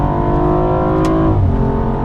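A BMW M235i xDrive engine revs hard toward its redline on a dry racetrack, a loud, close, rising drone with a quick dip near the end as a gear changes.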